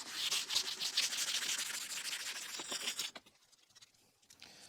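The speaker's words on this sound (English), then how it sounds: "So it says to just wrap your sandpaper around the foam block that's provided, just so you can apply a little more pressure." Sandpaper wrapped around a foam block rubbing back and forth across a yellowed, pitted Renault Clio headlight lens, a steady close gritty scraping that stops abruptly after about three seconds, leaving quiet.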